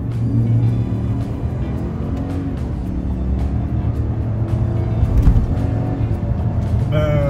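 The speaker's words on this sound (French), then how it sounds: "c'est le bruit du V8 qui ronronne dès qu'on appuie un petit peu" A big V8 engine rumbles and pulls hard as a GMC Sierra pickup truck accelerates, a deep continuous growl rising slightly from inside the cab.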